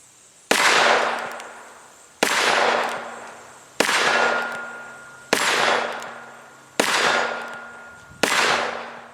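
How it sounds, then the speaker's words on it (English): Six loud, evenly spaced shots from a Smith & Wesson Model 15-7 .38 Special revolver fired single action at steel targets, each a sharp report with a ringing decay, roughly one and a half seconds apart with no talking. "So now I'm going to fire single action."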